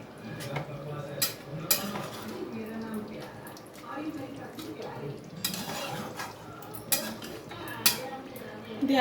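Fried onions being stirred into chicken curry in a pan, with utensil scraping and clinking against the metal in irregular bursts over a low sizzle, with a voice talking throughout.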